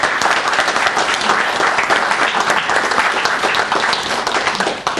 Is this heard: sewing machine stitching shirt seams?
no